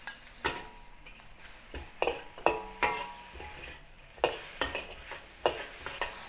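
Broccoli and carrot stir-fried in a wok for a beef noodle dish: a run of sharp scraping and clanking spatula strokes over a soft sizzle, irregular but steady, close and clear with no talk.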